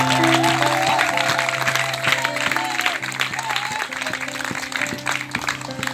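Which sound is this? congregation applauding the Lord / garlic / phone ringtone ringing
congregation applauding the Lord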